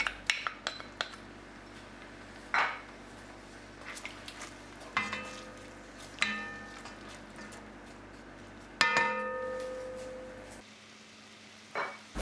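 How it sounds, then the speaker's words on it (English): A shallot browns quietly in a Dutch oven, a faint low sizzle under repeated clinks and scrapes of a utensil against the pot, with several sharp metallic knocks spaced across the stretch. "Add a shallot to the Dutch oven and brown"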